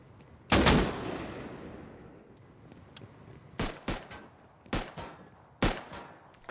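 Gunfire in a video game raid, shots coming through a crack in a wall: one heavy blast with a long decaying tail, then a series of sharp, separate shots spaced about a second apart.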